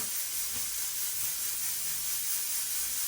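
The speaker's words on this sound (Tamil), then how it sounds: "பருப்பு ப்ரெஷர் குக்கரில் அவிகின்றது" A pressure cooker of lentils hisses steadily in a home kitchen, a continuous broad steam rush running unbroken and fairly quiet throughout, with no voices.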